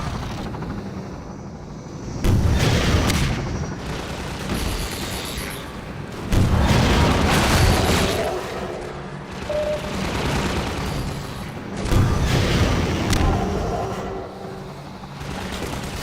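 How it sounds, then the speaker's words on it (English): Gunfire in the video game Half-Life 2 from a fight under an awning: loud bursts of shots and booming impacts come in repeated waves over a steady roar resembling aircraft engines, with no talking. "Shooting underneath the awning."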